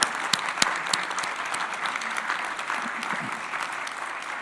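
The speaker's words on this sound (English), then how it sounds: "Let's give them all applause." An audience at a Martin Luther King Jr. commemoration and awards event applauds in a hall, a steady, full wash of clapping with a few sharper claps up front and no speech.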